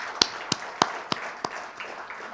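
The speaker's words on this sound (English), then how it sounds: "Let's have a big round of applause welcoming our dignitaries." Scattered, distinct handclaps at a glittering evening retirement function, greeting dignitaries. About half a dozen separate claps land at a loose, irregular pace over a low room murmur, with no voices.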